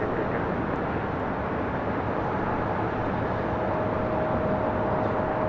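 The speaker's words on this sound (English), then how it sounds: "Good to see this A330 with Moss coming in from Felipe Angeles Airport there in Mexico City." An Airbus A330 airliner arrives at LAX, giving a steady, broadband roar that holds at an even level throughout, with a faint high whine appearing toward the end.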